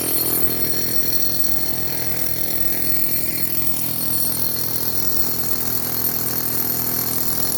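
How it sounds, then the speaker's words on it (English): A drill bores holes into a concrete driveway during concrete leveling, a loud steady grinding drone held close and unbroken. "He drills a bunch of holes."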